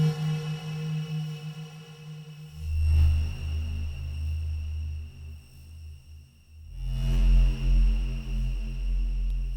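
Reverb-washed synth tones with sustained harmonic layers in a Hyper Light Drifter style, with bass swells entering partway through and a wet, delayed, echoing tail; no 8-bit lead is plainly evident.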